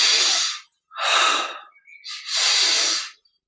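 Slow, deep breaths during guided yoga meditation: three long airy hisses, close and clear, separated by short silences, with a soft catch of breath between the second and third.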